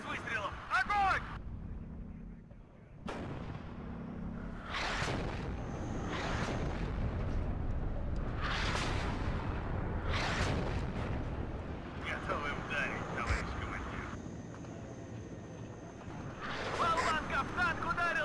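Several heavy artillery blasts of high-explosive shells in the game WARNO boom one after another, each with a long rumbling tail, while voices shout commands in Russian between the shots.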